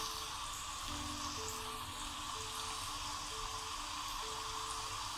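Bitter gourd pieces fry in batches in hot oil, giving a steady, fairly quiet sizzle and crackle that continues throughout with no talking.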